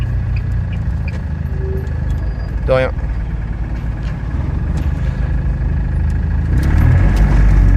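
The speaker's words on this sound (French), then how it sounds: "Comme d'habitude, le moteur ultra nerveux, à chaque fois il glisse." A Chatenet CH-46 microcar's engine drones steadily at close range with a low, constant hum, rising slightly near the end, while people talk over it.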